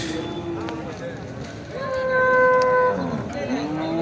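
Sahiwal and Friesian dairy cows and calves moo loudly several times, long low bellowing calls overlapping amid a busy crowd with background chatter at a livestock market.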